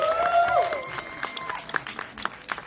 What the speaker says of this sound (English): let's give a round of applause once again for this amazing cast